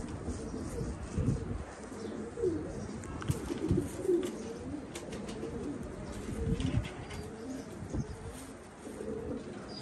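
Pet pigeons or doves cooing in a low, soft murmur of repeated calls, with scattered chirps from other birds, fairly steady throughout and not overly close.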